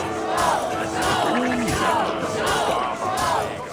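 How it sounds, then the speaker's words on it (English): Rowdy crowd shouts and chants rise and fall in a steady rhythm during a mead-drinking contest in Assassin's Creed Valhalla, loud and dense with overlapping voices and crowd noise. "This is a pretty daft minigame where you gulp in time to the crowd shouts"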